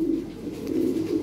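A pair of Lahori pigeons coos nearby in a low, continuous throaty murmur with gentle swelling pulses, no voices over it.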